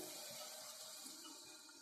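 Steady rushing of water poured into a pot of lentils, a continuous splashing flow at moderate level with no talking.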